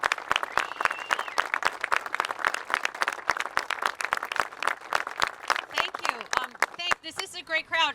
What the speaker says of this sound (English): Give her a giant round of applause.